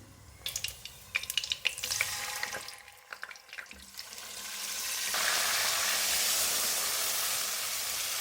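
Marinated chicken for a shahi korma hits hot oil and spices: clattering stirring and spoon scrapes first, then a loud, broad, continuous sizzle that swells and holds; no speech.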